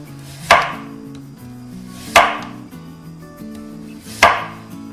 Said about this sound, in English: Slice them in lengthwise and cut the carrot.